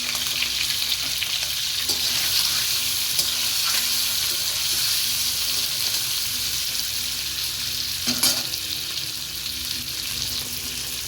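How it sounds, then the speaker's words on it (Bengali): A boiled egg coated in turmeric fries in hot oil in a wok, giving a steady close crackling sizzle with a few brief stirring scrapes and no talking. "মধ্যে ডিমটা ভাজা হচ্ছে"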